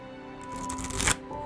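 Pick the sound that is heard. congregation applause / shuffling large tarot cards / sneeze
shuffling large tarot cards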